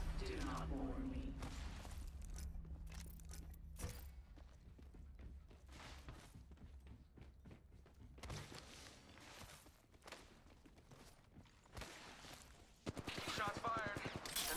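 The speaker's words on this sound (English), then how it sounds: "Shots fired." A dense flurry of gunfire rattles through a competitive shooter match on PC, with sharp repeated bursts over game noise and mechanical clatter. A voice talks intermittently over the shooting.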